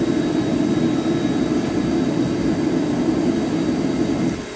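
Blower running on an aluminum melting furnace, a loud steady roaring whoosh of forced air that holds constant and eases slightly at the very end, no voices.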